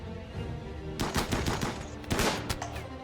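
Rapid bursts of automatic gunfire from a RimWorld colony battle, a quieter first second giving way to dense, repeated volleys of sharp shots, loudest around the middle and again near the end.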